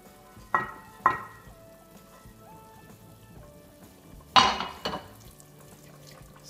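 A sour cream and carrot mixture is tipped into a pan of rabbit stewing on the stove, making a few soft wet plops and scrapes over a quiet, low background.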